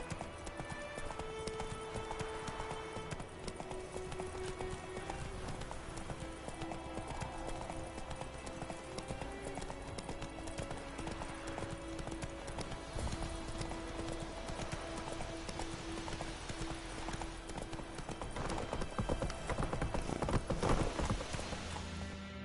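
Roach the horse gallops in The Witcher: Wild Hunt, hooves clip-clopping in a steady rapid rhythm throughout, growing louder and busier near the end, with faint voices in the background.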